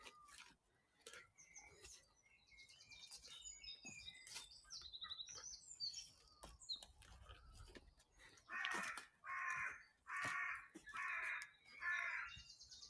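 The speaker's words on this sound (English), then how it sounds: "Carrion crow shouting loudly there." A carrion crow in the Perivale Wood nature reserve in spring caws loudly five times in a steady rhythm, after softer chirping birdsong and scattered background calls.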